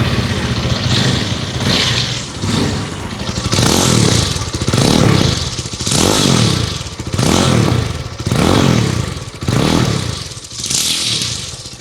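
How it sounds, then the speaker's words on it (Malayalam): A Jawa 42 FJ motorcycle with an Alpha 2 engine and six gears is revved repeatedly, loud and close, its exhaust rising and falling in roughly one-second swells with some popping and crackle between blips. "ഇനി ഇതിൻ്റെ എക്സോസ്റ്റ് ഞാനൊന്ന് കേൾപ്പിക്കാം"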